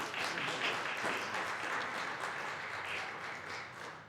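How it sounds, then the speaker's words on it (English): An audience at a chamber of commerce legislative forum gives a round of applause. The clapping is moderately distant and continuous, with a roomy crowd texture throughout. "Let's give these folks a round of applause for their time."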